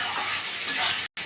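Chicken stomach with shahi garam masala is stirred in a pan over a soft frying sizzle, scraping steadily for about a second before a brief cut to silence.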